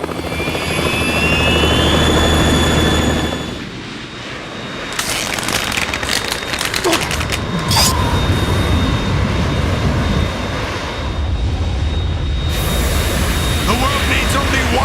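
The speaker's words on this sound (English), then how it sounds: "It's the Harrier." A Harrier jet in Metal Gear Solid 2 roars loudly and continuously, its engine noise dipping briefly before surging back with bursts of gunfire-like crackle and in-game effects layered over it.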